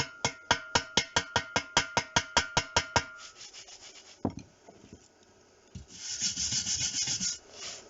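Brushing slag off a seam weld on a wood burning stove build, heard as a quick run of about fourteen crisp, evenly spaced scrapes, followed by scattered knocks and a longer rougher rasping at close range.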